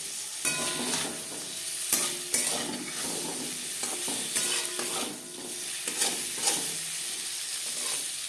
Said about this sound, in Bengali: পনির হালকা করে ভাজা হয়ে গেছে, একটা পাত্রে উঠিয়ে নেব।